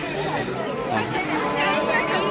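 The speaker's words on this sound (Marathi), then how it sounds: "आणि लोकांची गर्दी बघा।" Dense crowd chatter at a temple festival in Maharashtra, many overlapping voices forming a steady, close babble throughout with no single voice standing out.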